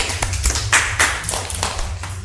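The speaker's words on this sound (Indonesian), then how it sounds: "Tepuk tangan." A class of fifth-grade children clapping hands during a physical education lesson, a loud cluster of quick, uneven claps lasting a couple of seconds.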